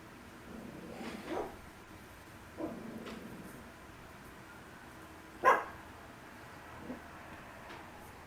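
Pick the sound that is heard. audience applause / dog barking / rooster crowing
dog barking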